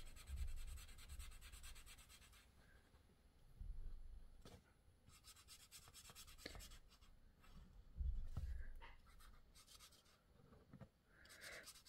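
Colored pencil scratching across paper as an orange shade is filled in, a quiet, steady run of dry rubbing strokes with small pauses and a few firmer swipes, no talking.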